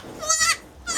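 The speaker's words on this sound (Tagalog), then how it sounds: "Yun yung bago kong kambing." A young goat bleats twice in quick succession, a close, nasal, wavering cry.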